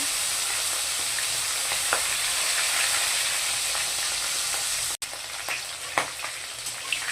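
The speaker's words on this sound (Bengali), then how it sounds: "মাথাগুলো কিন্তু ভাজা হয়ে গেছে" Hilsa fish heads fry in hot oil with a steady, dense sizzle, and a few sharp pops and crackles break through near the end.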